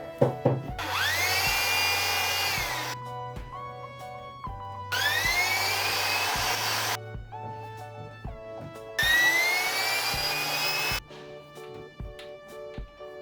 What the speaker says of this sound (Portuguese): Eu vou fazer o furo de baixo para cima e vou colocar o parafuso por baixo.